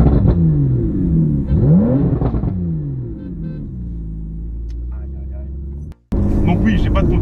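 A Porsche 911 fitted with a Fab Speed exhaust revving while stopped at a red light, with loud swooping rev rises and falls that settle into a deep idle rumble before a brief cut, under nearby talk.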